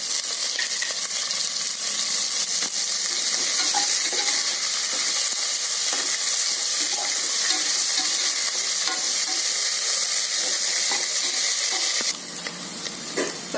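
Onions sizzle steadily in a hot pan for vegetable rice, a continuous bright frying hiss with occasional stirring scrapes, close and loud with no talking.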